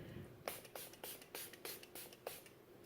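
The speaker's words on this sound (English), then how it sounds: "I am going to use my setting spray." Milani Make It Last makeup setting spray misted in a quick series of about seven short, close hissing spritzes, evenly spaced, with no talking.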